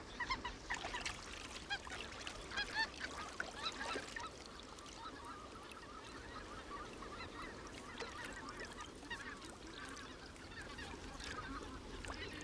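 A continuous outdoor chorus of white-fronted goose calls in Russia, busy honking and cackling from a flock at middle distance, steady throughout with no talking.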